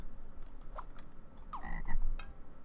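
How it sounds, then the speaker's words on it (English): Frogs croak repeatedly in Scribblenauts Unlimited, a series of short, sharp game croaks spaced unevenly over a low steady background hum, with no talking. "The frogs are endless."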